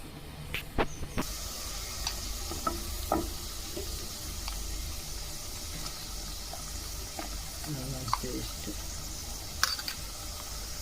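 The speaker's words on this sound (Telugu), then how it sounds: "నేనైతే ఉల్లిపాయ పచ్చిమిర్చి కొంచెం బాగా ఎర్రగా వచ్చేటట్టుగా వేపుకున్నాం." Onions and green chilies fry in a pan of hot oil for a fish curry, giving a steady broadband sizzle with a few clinks and stirring taps scattered through it.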